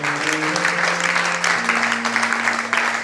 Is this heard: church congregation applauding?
yes